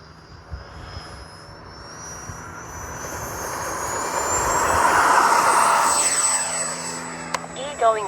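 A Freewing F-22 Raptor 80mm RC jet flies overhead at a field, its high ducted-fan whine rising and swelling as it passes near, then fading, with faint voices in the background.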